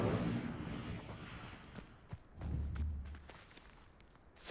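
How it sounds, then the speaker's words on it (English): A burning pyre sinks into the ground after being lit with the Incendio spell in Hogwarts Legacy, heard as a low rumbling grind with scattered thuds and a sharp whoosh at the end. "The flames make the pyre sink."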